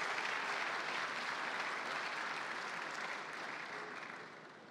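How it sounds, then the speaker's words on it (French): Sustained audience applause fills a business forum's closing ceremony, dense and even, slowly fading in the final seconds. "On peut les applaudir, je crois,"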